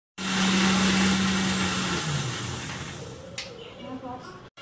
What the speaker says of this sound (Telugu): ఇదిగోండి కొంచెం పంచదార, ఎలా మిక్సీ పట్టేసి చూపించాను